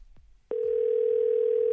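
A telephone call tone starts abruptly after a moment of quiet and holds as a steady, loud, unbroken electronic hum, with faint rhythmic thumps beneath it.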